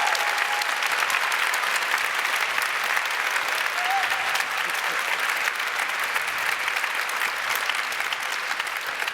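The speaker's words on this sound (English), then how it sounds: "I just want you to applaud to welcome him here" Audience applause welcoming Professor Achille Mbembe at the Wereldmuseum Amsterdam: dense, sustained clapping from a full crowd, steady and loud throughout without pause.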